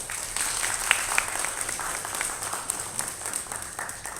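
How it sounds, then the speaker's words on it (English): An audience at a public education forum applauds steadily, a dense wash of many hands clapping close by, sustained throughout with no talking over it. "May we please give all the speakers a big round of applause to warm them up."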